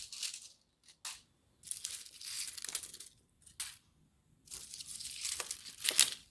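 Dried, baked kale chips crunch and crinkle close up in several bursts with short silent gaps between them, a brittle papery crackle like crumpling paper, with no talking.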